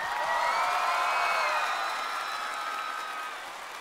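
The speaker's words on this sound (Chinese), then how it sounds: "掌声送给你们" A studio audience at a televised singing competition applauds and cheers for the performers, a loud wash of clapping and whoops that gradually fades toward the end.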